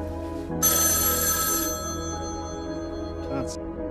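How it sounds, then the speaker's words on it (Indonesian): A hotel room telephone rings with a bright electronic bell tone, loud and close, fading after a burst, with a faint hum underneath. "Tiba-tiba telepon di kamar berdering"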